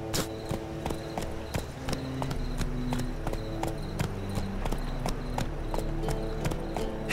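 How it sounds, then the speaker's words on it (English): Horse hooves clip-clop at a steady trot in The Witcher 3, close and continuous, a rhythmic string of sharp knocks over game ambience and a low background hum. "Come on, Roach"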